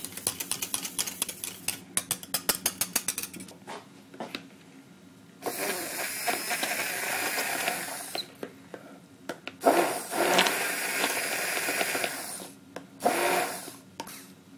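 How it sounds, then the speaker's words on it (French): A blender whirs through lemon cream in several short, noisy bursts with brief pauses between them, preceded by some light clicking and scraping. No one speaks. "on va donner un petit coup de mixeur"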